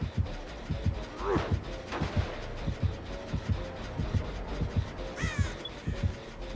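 Crows caw in Dead by Daylight, a few sharp calls standing out over a rhythmic mechanical chugging in the background.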